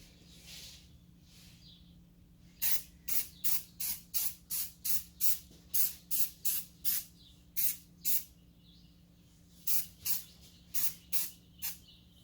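A rapid series of short, sharp spray paint bursts on peeling BMW trim, closely spaced and nearby, pausing briefly midway before resuming.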